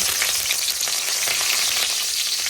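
Ginger and curry leaves frying in hot oil give a loud, dense, steady sizzle close up, with no voices over it.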